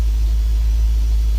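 A replacement V8 engine in a Nissan D40 Navara idles with a steady, deep low rumble at close range, running evenly without revving and with no talk.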